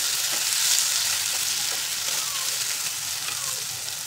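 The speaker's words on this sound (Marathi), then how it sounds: "त्यामध्ये घालायचे 3 मोठे टोमॅटो बारीक कापून घेतले, मोठ्या आकाराचे 3 टोमॅटो. हे छान आपल्याला शिजवून घ्यायचं आहे." Chopped large tomatoes cook in a pan with fried onions for a vegetable dum biryani, giving a steady close sizzle and hiss with faint stirring scrapes, and no talking.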